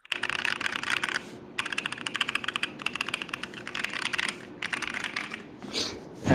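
Keys on a custom mechanical macro-pad with foam-dampened 1U keycaps are typed in quick bursts of clacking strokes, broken by short pauses and ending with a softer shuffle, close and alone.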